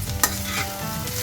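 Amaranth leaves and mango paste stirred in a pan for pickle, a short burst of spoon scraping over a soft steady sizzle, close and alone with no voices.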